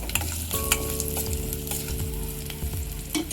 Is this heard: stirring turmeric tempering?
yes